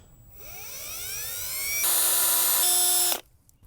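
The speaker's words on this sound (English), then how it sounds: "first of all is just a couple little pilot holes." A power drill boring a couple of small pilot holes while mounting a garden watering holder, the motor whining up in pitch as it spins, then a loud steady grinding through the material before cutting off abruptly.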